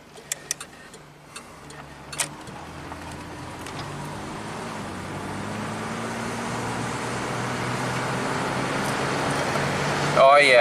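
A 1985 Oldsmobile accelerating hard at almost full throttle in second gear, engine drone rising steadily in pitch and loudness over several seconds after a few faint clicks, heard from inside the car.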